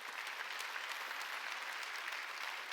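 A church congregation at a Sunday worship service claps together, a soft, distant, even patter of many hands that holds steady for the whole stretch.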